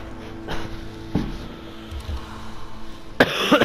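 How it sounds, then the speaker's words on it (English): A person coughing during a Mortal Kombat X gameplay session, a few separate dry coughs spread across the moment, the last one sharper and louder, over faint background hum. "Sorry, I keep coughing."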